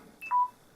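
A mobile phone gives off a brief pair of electronic tones, a short high beep then a slightly longer steady tone, fairly quiet and alone against a faint background hiss.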